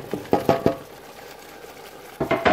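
A stew of potatoes and whole-kernel corn being stirred in a pot, a few soft scraping knocks early on, a quiet stretch, then more stirring clatter near the end.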